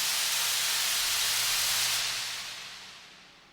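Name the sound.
broken tape noise riser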